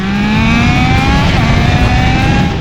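A Triumph Daytona 660 three-cylinder motorcycle engine runs loud and close, a steady revving note that climbs smoothly in pitch, with no talking.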